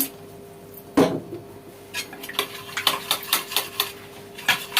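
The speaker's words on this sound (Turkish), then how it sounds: "Şöyle karıştırıyoruz." A spoon stirs tomato paste thinned with water in a pot, giving a string of quick clinks and scrapes against the pot, close and fairly faint.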